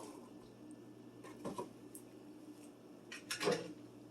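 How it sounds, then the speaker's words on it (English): A tablespoon scrapes and clinks inside a can of pinto beans stuck to the bottom, with two soft bursts of metal scraping and squishing, quiet and close, with no talk. "Sometimes they can be a little stubborn and stick to the bottom of the can. I just used a tablespoon to loosen them."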